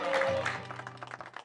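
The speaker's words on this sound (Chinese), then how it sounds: "掌声欢迎" Applause from a children's class audience welcoming a music teaching assistant and two social counsellors, a short burst of clapping mixed with a sustained tone and faint voices.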